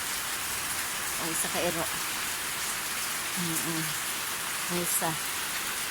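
Steady rain pours down as a dense, even hiss that fills the whole clip, while a few short bursts of speech come through faintly over it.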